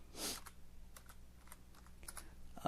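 Light typing on a computer keyboard: faint, scattered keystroke clicks spread across a few seconds in a quiet room, with no talking.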